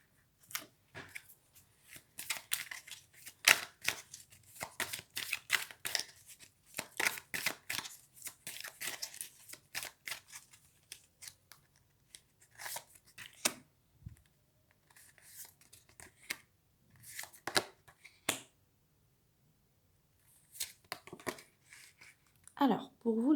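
Tarot cards are shuffled for a reading in rapid, crisp riffling bursts that come in close, uneven runs, with a few short pauses between handfuls.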